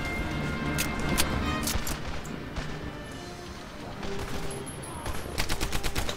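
Thompson submachine gun fire in a Medal of Honor Allied Assault Operation Husky mission: repeated bursts of rapid gunshots with distant battle noise and explosions between them, loud and dense, over a steady game soundscape.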